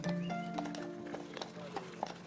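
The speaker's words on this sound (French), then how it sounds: "quoi de mieux que de se promener en calèche à la vitesse du cheval?" Hooves of a horse pulling a calèche through the Alsatian village of Seebach clip-clop at a steady walking pace, mid-distance and moderately loud, over a low rolling rumble with faint voices in the background.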